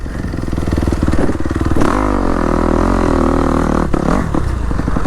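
A dirt bike rides a narrow single-track trail, its engine loud and close, buzzing steadily and then revving higher as it pulls along, with light clatter from the ride and no voices.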